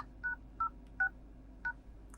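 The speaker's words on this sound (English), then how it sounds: "Now enter secret code, which is *#06#." A Vivo Y31 phone keypad gives four short, clear DTMF beeps as the code *#06# is entered, spaced evenly about every half second over a faint steady background hum.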